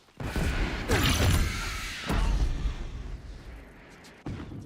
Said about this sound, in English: Well, I gave him explosives after all.